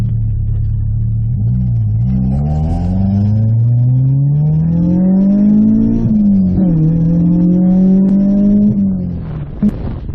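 Honda B20 engine with a VTEC conversion revving hard in a workshop, its pitch climbing and falling in long sustained pulls for about ten seconds, loud and close with no one talking.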